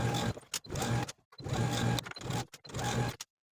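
A sewing machine stitches close to the inner fold around the hem of a DIY kimono, running in three close whirring bursts separated by brief pauses.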